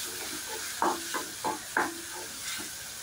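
Ground ginger, garlic and onion paste sautéing in a pan for mint rice, a steady low sizzle with a few louder stirring scrapes in close succession, no voices.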